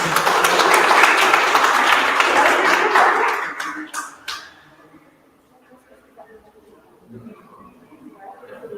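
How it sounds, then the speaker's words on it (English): A loud round of applause from a school audience for a student public speaker, sustained for about four seconds before fading into quiet room murmur and scattered movement. "Another big round of applause for"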